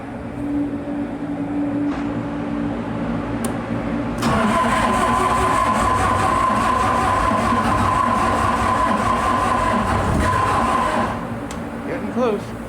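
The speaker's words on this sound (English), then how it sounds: "Just gotta crank, crank, crank until I can get that cylinder area warm enough to light this off in one go." The diesel engine of an Atlas Copco XAS175JD air compressor cranking over, a loud, continuous rhythmic starter churn with a steady whine, held for several seconds before easing off near the end, with someone talking at times.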